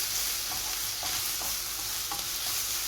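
Onions and mushrooms fry in a pan with a continuous bright sizzle, and a utensil gives several light, irregular stirring scrapes and taps close by.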